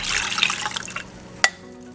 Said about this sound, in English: Now I add an additional cup of water